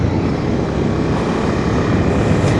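A Honda CB250R motorcycle's exhaust gives a loud, steady, close engine rumble mixed with broad wind roar, with no talking.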